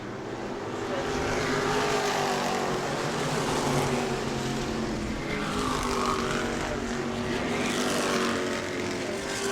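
E-Mod race cars roar around the New Smyrna oval during a heat race, engines loud and continuous with rising and falling passes as cars dive by close.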